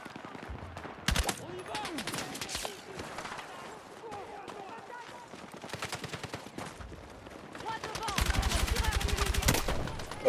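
Rapid bursts of automatic gunfire and single shots ring out in a Battlefield 6 match, with a dense, loud machine-gun rattle late on, while a player talks over the action.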